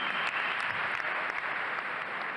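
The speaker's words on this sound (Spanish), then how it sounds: "Un aplauso para el pueblo de los Estados Unidos." An audience applauds Sean Penn with an even, continuous patter of many hands, moderately distant and soft, with no speech on top.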